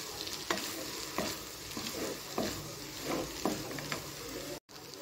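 Cooked pasta being mixed with carrots and beans in a hot pan: rhythmic scraping stirs about every half second over a continuous sizzle, close and fairly loud, with a brief cut near the end and no talking.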